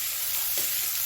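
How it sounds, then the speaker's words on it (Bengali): Onion fries in a pan with a continuous soft hissing sizzle, steady and close, with no voices. "একটু লাল লাল করে ভেজে নেব"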